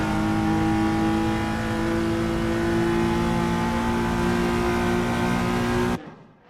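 Racing car engines from a 1960s classic car race on the Thomson Road circuit in the Assetto Corsa video game roar loudly and steadily at high revs, then cut off abruptly near the end.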